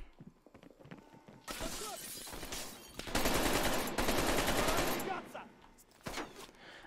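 AK rifle gunfire in Call of Duty: Black Ops Cold War, loud bursts of rapid shots in two long volleys with shorter bursts around them, mixed with game effects and faint speech.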